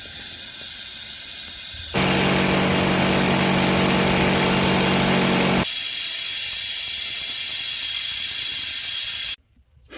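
Impact wrench and ratchet at work on the exhaust manifold bolts of an L5P Duramax diesel: a loud, steady burst of mechanical rattling runs for several seconds between quieter tool noise, then cuts off abruptly near the end.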